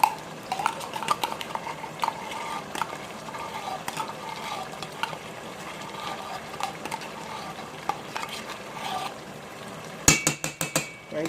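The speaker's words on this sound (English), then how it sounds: "Trying to make sure I got every single thing out of that container." A spoon scrapes tomato paste out of its container with repeated short scraping and tapping strokes in an uneven rhythm, ending in a few sharp louder knocks.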